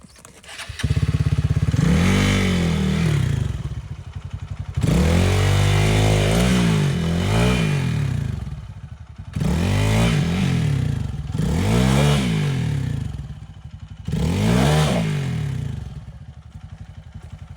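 A dirt motorcycle, a Kawasaki KLX 150 or XPulse 200, revs hard in repeated surging bursts while climbing a slope, the engine rising and falling close by with clattering in between.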